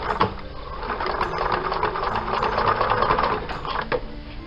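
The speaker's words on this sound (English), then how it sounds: "we can then begin to stitch on the machine" A sewing machine stitches cushion pieces in a steady, close whirring run with a fine mechanical rattle and no pauses.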